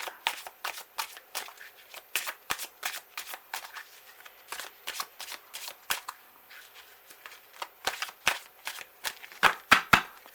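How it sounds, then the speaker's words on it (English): Tarot cards are shuffled and pulled in a card reading, with a dense run of crisp riffling flicks and slaps, many quick snaps in uneven bursts, close and fairly quiet, with no talk. "So let's pull some other cards here for you."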